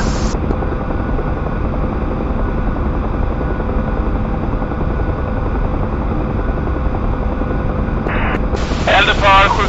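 Military helicopters warming up, a loud steady turbine whine and rotor drone filling the whole stretch, with radio-like static bursts near the end.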